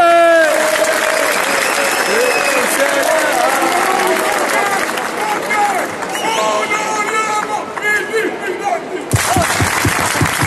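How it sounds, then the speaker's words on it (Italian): Ultras gathered in a piazza at a fan festival break into loud, dense applause and cheering that runs steadily for about nine seconds, then cuts to sparse claps and a few nearby voices. "Un applauso."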